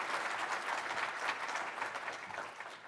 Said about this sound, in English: Oh, round of applause, yes.